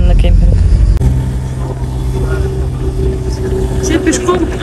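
A car drives slowly through a pedestrian zone near the Sulak Canyon in Dagestan, its engine a steady low rumble close by, with people talking over it.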